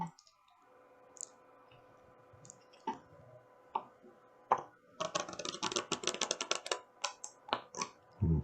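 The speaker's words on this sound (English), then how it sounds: "I'm going to shuffle these so that they're in completely different positions." A deck of playing cards is shuffled during an open-mic magic act: a few sparse taps, then a loud rapid run of crisp flapping clicks as the cards riffle together, close and with no talk.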